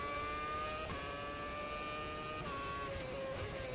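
Race car engine from the Automobilista F1 2006 mod holds a steady high whine, with brief dips at each gear change as it climbs again, loud and continuous with no talk over it.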